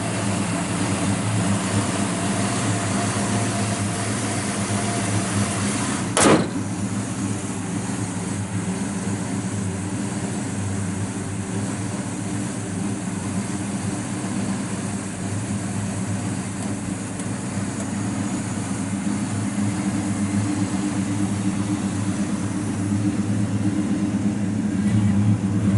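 A 1971 Plymouth Duster 340 with original 340 exhaust manifolds idles in a steady low rumble from the exhaust, continuous and even throughout, with one sharp click early on.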